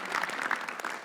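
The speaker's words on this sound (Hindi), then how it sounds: "उर्जिता वानी के लिए तालियां प्लीज।" An audience applauds for a guest at a comedy roast show, a short burst of dense clapping that stays fairly steady throughout.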